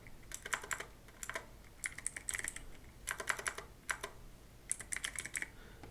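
Bursts of typing on a computer keyboard while entering a search in Windows app settings, quick clustered key clicks in several short runs with brief pauses, close and fairly quiet, no talking.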